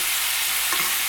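Strips of meat browning in a hot pan, a steady close frying hiss with a faint scrape of stirring near the end.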